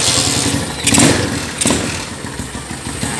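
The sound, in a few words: Honda GL100 motorcycle engine starting and idling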